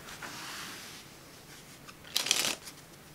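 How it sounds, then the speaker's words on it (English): A deck of Triumph playing cards is shuffled close up, with a soft rustle early on followed by one sharp, dense riffle burst near the end, with no talking. "let's see some shuffling in action here"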